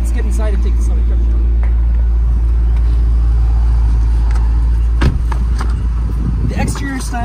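Maserati Quattroporte Trofeo driving, heard from inside as a deep, steady engine drone with a faint voice and a few brief knocks over the rumble.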